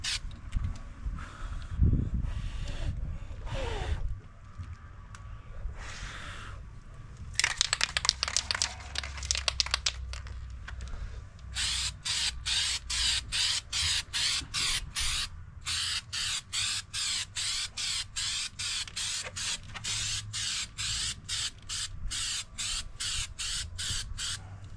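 Bed liner coating sprays onto plastic panels of a Suzuki Grand Vitara, first as hissing passes, then in rapid, evenly spaced pulses of spray that keep on steadily and close up.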